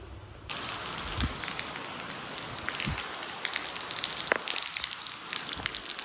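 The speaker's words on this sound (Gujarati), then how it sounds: "તો બહુ વરસાદ આવે" Steady, dense patter of heavy rain pouring down, a broad hiss with occasional louder splashes, continuous throughout with no voices.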